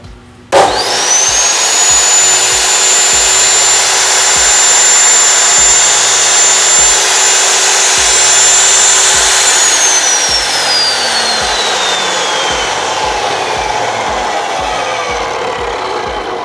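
A metal-cutting power saw runs steadily for about fifteen seconds after a sharp start, a loud continuous whine with a faint rhythmic ticking beneath, its pitch dropping as it winds down near the end.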